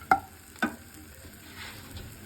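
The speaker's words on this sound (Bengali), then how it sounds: "এটা দিয়ে আমি এখন ডালের বড়িটাকে ভালোভাবে ভেজে নেব" Lentil dumplings (bori) fry in oil in a pan with a soft, low sizzle, broken by two sharp clanks of a utensil against the pan near the start.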